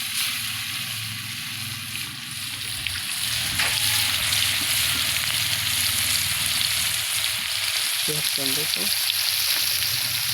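Fish fries in oil in a wok for a home-style fish curry, giving a loud, steady sizzle close by. A few light utensil clinks sound near the end.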